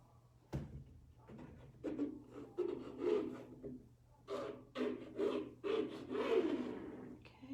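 Paint is rubbed along the sides of a 2-inch gallery wrap canvas in a series of soft, close rasping strokes. A sharp knock opens the run, and the strokes come in uneven bursts at low volume.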